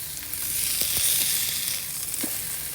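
Food sizzles steadily on a Weber Master Touch stainless steel diffuser plate used as a griddle, a loud, even hiss with faint pops and scraping ticks throughout.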